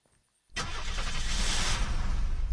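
A car engine cranks and catches in the survival game Unturned, then holds a loud, steady running roar after a brief quiet start.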